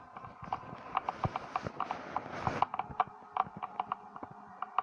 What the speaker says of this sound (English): the tapping noise began.